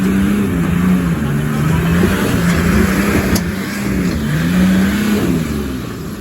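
A Nissan Patrol 4WD works up a wet, rocky hill track with its engine held at strong, rising and falling revs. The droning motor stays loud and close throughout with no voices.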